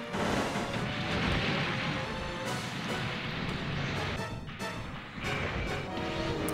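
Missiles launch and blast repeatedly in the mech combat game Zoids Battle Legends, a dense, loud wall of booming explosions and rumbling impacts that never lets up.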